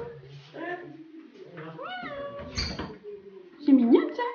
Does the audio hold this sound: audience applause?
no